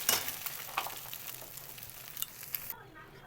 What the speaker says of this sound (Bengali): ডিমটা ভেজে তুলে নেব